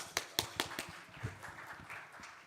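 A conference audience gives a round of applause, opening with a few sharp, separate claps that trail off into scattered, fairly quiet clapping in a hall.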